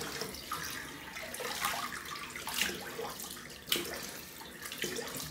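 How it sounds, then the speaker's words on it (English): Tap water runs into a sink for a cold rinse after a shave, a soft continuous splashing flow with a few louder splashes and shifting patter, close by and fairly quiet, with no talk. "All right, cold water rinse."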